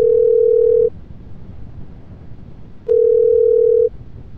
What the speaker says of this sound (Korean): 곽 전 교육감을 전화로 연결해서 이야기를 나눠보도록 하겠습니다.